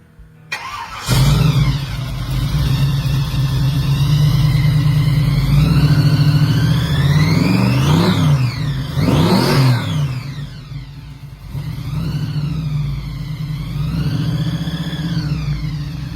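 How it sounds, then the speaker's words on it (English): A 1954 Ford F-100 pro street truck with a 383 stroker engine and a Littlefield blower starts up and idles loud and close with a heavy rumble, then revs hard several times with rising and falling whine. "Under the hood sits a 383-stroker engine, topped with a Littlefield blower"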